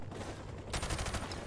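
Bursts of MP5 submachine gun fire shot from the hip in Call of Duty 4: Modern Warfare, rapid cracks starting partway through and running close and loud over a steady rumbling game background, with no talking.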